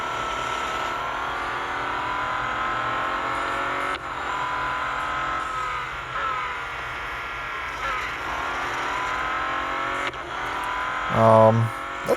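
Bentley Continental GT Speed engine in a racing video game, a loud continuous drone rising and falling with throttle changes, with light talk faintly underneath.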